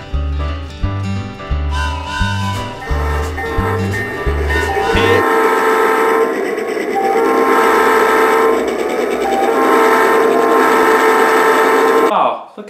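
A train on a track in Seattle blends with music: a rhythmic low pulsing opens the passage, followed by sustained horn-like tones and a dense rumble that continue loudly before stopping abruptly near the end.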